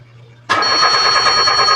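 A Mitsubishi Mirage with a fuel pump problem cranks and its engine catches, loud and close, settling into a steady idle with a high whine.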